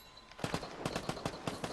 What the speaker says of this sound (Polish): Słyszę strzał.